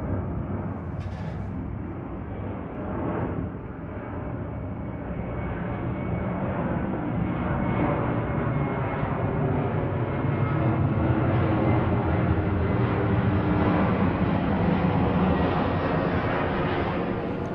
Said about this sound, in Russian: на посадку идет самолет с включенными фарами